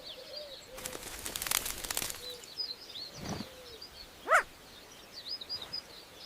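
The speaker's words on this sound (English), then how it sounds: "As the badger moves on, the little bird takes up its chattering call once again." A small honeyguide calls outdoors in the wild, giving faint, scattered chirps and chattering notes with a louder call near the end, amid flapping wings and soft rustling background noise.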